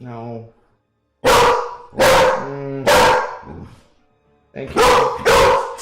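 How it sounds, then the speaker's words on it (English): A dog barks in several loud, close bursts, with a person speaking briefly before and between the barks in a home setting. "Sorry for the barking."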